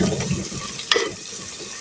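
Ground spices and dried red chilli are stirred briefly in hot oil in a pan for a cauliflower curry. A steady soft sizzle continues throughout, with one small clink or scrape near the middle and no talk.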